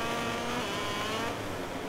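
A KTM racing motorcycle engine in MotoGP 18, racing in rain at Assen, holds a loud, steady high-revving drone with no pauses.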